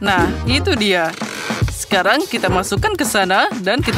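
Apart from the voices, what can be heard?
No everyday noises stand out.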